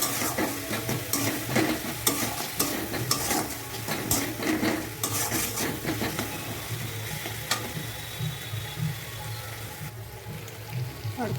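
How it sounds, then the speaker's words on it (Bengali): Duck egg curry masala with salt, turmeric and chili powder being stir-fried in a pan: a steady close sizzle with repeated scraping stirs and occasional utensil clinks, easing slightly toward the end. "এবার এতে আমি দিয়ে দেবো সামান্য পরিমাণে নুন, সামান্য পরিমাণে হলুদ গুঁড়ো, সামান্য পরিমাণে কাঁচা লঙ্কার গুঁড়ো দিয়ে ভালো করে কষে নেব"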